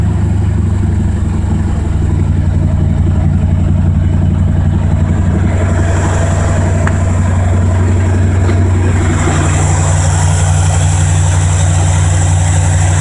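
A carbureted Ford 302 5.0 V8 swapped into a Mazda RX-7 idles steadily, a loud, deep continuous rumble throughout with no talking, running on thin, fuel-diluted oil.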